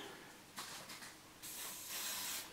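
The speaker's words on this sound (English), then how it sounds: "I have to spray my hair" Soft aerosol spray hisses in short bursts, the last one longer, quiet and close with no voices.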